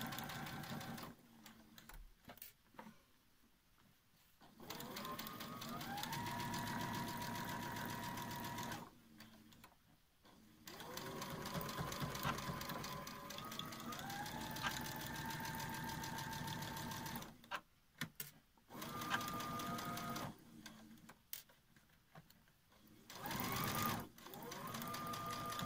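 A sewing machine stitches a face-mask seam around a curve in several bursts of fast mechanical whirring, separated by short pauses, close and clear.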